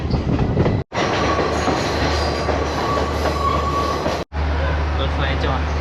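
Steady rumble of a train running on rails between Kandy and Ella, Sri Lanka, with a brief gap, continuous rolling noise close by and faint talk mixed in.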